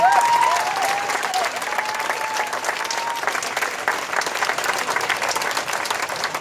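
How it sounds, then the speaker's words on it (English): Steady, dense applause from a large audience at a rally against white supremacist terrorism in Virginia, sustained throughout at an even loudness, with faint crowd noise beneath. "We should applaud them."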